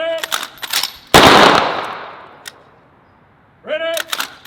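A single sharp, loud rifle volley of a ceremonial Memorial Day gun salute in Milpitas cracks out and echoes away, framed by shouted commands before and after.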